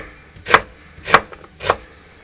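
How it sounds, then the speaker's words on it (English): Knife slicing through onions on a cutting board in a home kitchen: three separate crisp chopping strikes, evenly spaced about half a second apart, close and clear with quiet gaps between. "Cut your onions. Slice them up."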